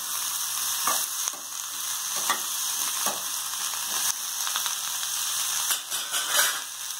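Shallots sizzle and fry steadily in hot oil in a pan for radish onion sambar, a continuous close crackle with occasional stirring scrapes and no talking.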